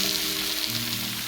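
Jalapenos frying in a pan as they are stirred, a dense, steady sizzle close up with no talking.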